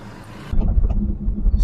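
Stop-and-go traffic jam in Ubud, Bali, heard from inside a taxi: a steady low car engine rumble with road noise, quieter at first and then swelling louder and closer, with no talking.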